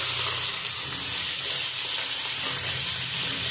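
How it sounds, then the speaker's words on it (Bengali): Potatoes and other vegetables fry in white oil in a hot kadai, giving a loud, continuous hiss and sizzle that holds steady from start to finish with no talking. "প্রথমে সবজিগুলো ভেজে নেবো, আলু সব সবজিগুলো একসঙ্গে দিচ্ছি"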